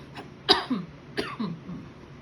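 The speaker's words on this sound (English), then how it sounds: "I hope that cough doesn't start." A person at a Hanukkah card-making class coughs twice in quick succession, two sharp, moderately loud bursts with a brief rough tail, close to the microphone with faint room noise between.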